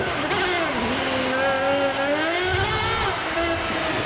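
A 2023 Aston Martin Valkyrie in Forza Horizon 5 revs hard, its shrill, high-pitched engine note climbing and dipping in a continuous, loud howl.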